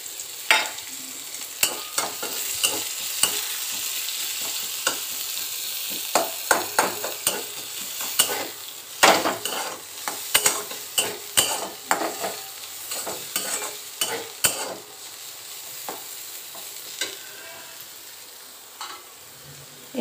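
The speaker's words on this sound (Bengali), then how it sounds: "দেখো আলুগুলো ভাজা হয়ে গেছে, এবার এইখানে পেঁয়াজ কুচি আর লঙ্কা কুচিগুলো দিয়ে দিচ্ছি।" Potatoes fry in a pan as chopped onion and chilli are added, a steady sizzle broken by repeated sharp scrapes and clacks of a spatula stirring, close and fairly loud.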